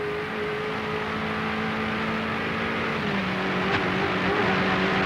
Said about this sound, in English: we take race cam from Win Percy in the FAI Insurance Commodore